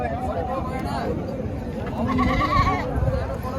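Young goats or sheep bleat at the Amingada weekly sheep and goat market, with a few short cries rising over close chatter and crowd noise.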